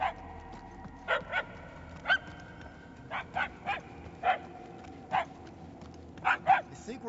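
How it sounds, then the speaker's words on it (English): A dog barks repeatedly in the Guardians of the Galaxy video game, sharp single and paired barks spaced a second or so apart, fairly faint over a low background. "The barks are getting louder, at least."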